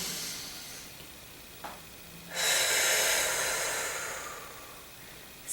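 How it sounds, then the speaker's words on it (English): A slow, deep breath, heard close and alone: a faint short intake, then a long rushing exhale that lasts about two seconds and trails off quietly. "my number one tool that has worked for me over the ages has been simply to breathe."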